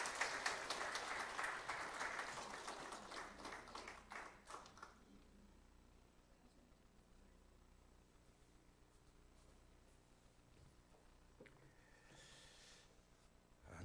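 Congregation applause at a church ordination service, a fairly faint burst of clapping that fades out after a few seconds, leaving a quiet room with a few small taps.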